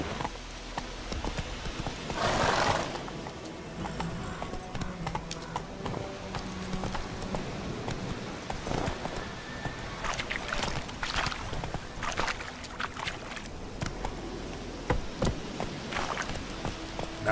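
Roach, the horse in The Witcher 3 video game, moves along with steady, fairly close clip-clop hoofbeats that run the whole way through, over a low ambient game backdrop.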